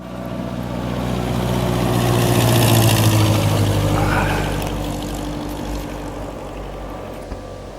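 A small propeller plane landing on a short runway near Dawson City in the Yukon, its steady engine drone swelling and peaking mid-clip before easing off to a lower idle-like hum, with no talking.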